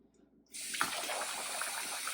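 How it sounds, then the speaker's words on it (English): Running tap water pours into a kitchen sink while dishes are rinsed, starting abruptly after a short quiet moment and continuing as a steady, close rush with no talking. "Because I don't see any more food left, I'm going to now rinse it off."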